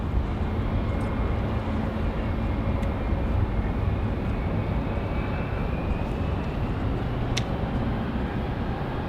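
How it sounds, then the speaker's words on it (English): An ATR turboprop airliner approaching to land at Raleigh Durham airport in gusty wind gives a loud, continuous roar blended with wind rumble, holding steady across the whole stretch with no talking. "here comes our ATR"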